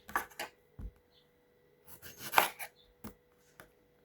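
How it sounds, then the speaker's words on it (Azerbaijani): A knife chops tomatoes into small pieces on a cutting board in a home kitchen: quiet, close, irregular knocks in short clusters separated by pauses. "balaca hamısını doğrayacağım indi"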